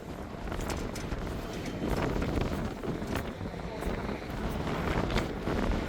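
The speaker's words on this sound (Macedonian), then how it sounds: "Ветер дува, растора." Wind gusts across an open rooftop, a steady, loud rushing roar with buffeting against the microphone throughout, and a voice speaks briefly beneath it.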